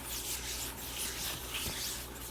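A hand rubs steadily across the surface of a vinyl record in a continuous, close, breathy swishing with soft rises and falls, like light sanding, with no voices.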